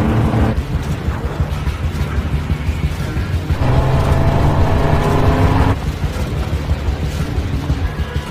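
Car engine at night drawing nearer, a steady motor hum that swells and revs in the middle before settling back, heard without talk.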